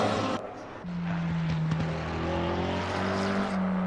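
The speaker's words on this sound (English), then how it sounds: "Very fast drag racing towards the finish line." Race cars speed around Imola in a sim racing video game, with a continuous engine whine whose tones climb and shift as the cars push through the lap.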